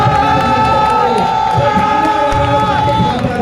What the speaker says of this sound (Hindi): जनाब कल्याण के साथ का इस्तेमाल होगा, जोरदार ताली हो जाए